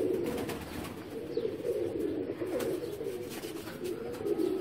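Pigeon cooing in a steady, continuous low murmur close by, the soft throaty coos blending into one another throughout with no talk over them.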